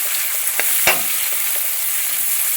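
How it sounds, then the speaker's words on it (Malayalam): Two medium onions, sliced lengthwise, fry in a pan as they are stirred, giving a loud, continuous bright sizzle with a few soft scrape knocks, close by and with no voices. "രണ്ട് മീഡിയം സവോളയാണ് നീളത്തിലരിഞ്ഞ് ഇതുപോലെ ഇടുന്നു അതിലോട്ട് നൂറ് ഗ്രാം ആ ഇനി ഒന്ന് ഇളക്കി കൊടുക്കും"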